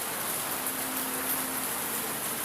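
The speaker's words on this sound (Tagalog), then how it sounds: "It's raining." Rain falling steadily on an afternoon, a soft continuous hiss of drops on surfaces, fairly close and even throughout, with no voices.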